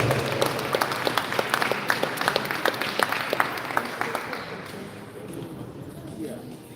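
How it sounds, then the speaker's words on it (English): A community audience applauds a restaurant CEO at a live event, distinct sharp claps peaking early and then thinning out, fading toward the end with a voice faintly present. "Can we give him a round of applause?"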